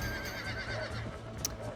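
A horse in the Red Dead Redemption video game gives a faint whinny over a steady low ambient bed, heard alone without talk in a short stretch.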